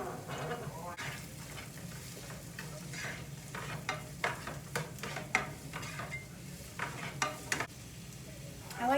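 Chopped onions are stirred in a frying pan, with a soft sizzle under repeated scrapes and clinks of a utensil against the pan in a home kitchen.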